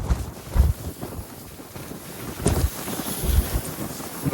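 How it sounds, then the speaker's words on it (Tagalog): Strong wind on a beach buffets the microphone, a constant roar with heavy low gusts rising and falling and no talk. "Masyado malakas po ang hangin"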